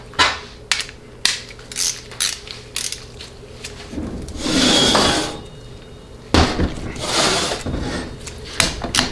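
Torque wrench tightening bolts on a TH400 transmission during a heavy-duty rebuild, clicking ratchet strokes and metallic clanks in irregular bursts, close by, with brief speech in the workshop.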